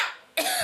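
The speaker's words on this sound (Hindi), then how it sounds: "खांसी आ गई।" A single sharp cough bursts out after a moment of quiet, close and fairly loud.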